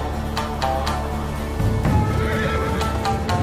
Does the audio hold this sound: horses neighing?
yes